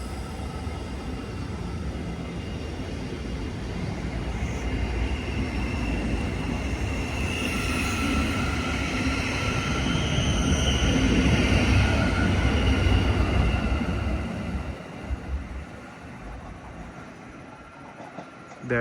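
A Thameslink train departs toward Peterborough on the East Coast Main Line, its rumble and whine swelling steadily to a peak and then fading away as it pulls off.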